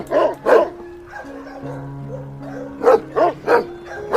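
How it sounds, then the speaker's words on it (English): A dog barks in two short pairs at the start and end, medium-close, while a soft sustained musical tone plays underneath between them. "D for dog. D for dog."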